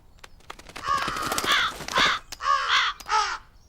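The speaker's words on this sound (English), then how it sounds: "The crows flapped and flew." Crows in a Thomas & Friends cartoon caw loudly, four harsh calls in quick succession standing out clearly against faint flapping with no talking.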